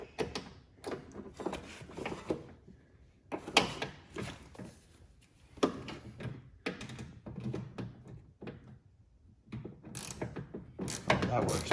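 Ratchet and pawl clicks from a 10mm swivel socket loosening door handle bolts on a Porsche Boxster 986, coming in repeated bursts of close, crisp mechanical ratcheting with brief pauses and occasional clunks.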